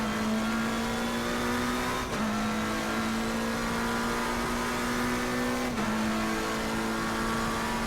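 Race car engine in Assetto Corsa Competizione at Monza, a BMW with its rear sliding away, drones at steady high revs with a loud, continuous tone that dips sharply at two gear shifts.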